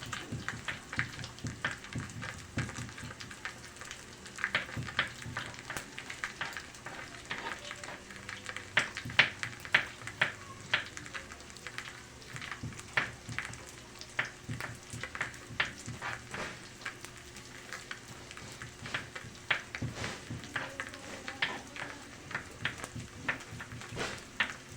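Breaded pork chops fry in a pan with a soft, continuous sizzle and crackle, fairly faint and close, while people talk nearby.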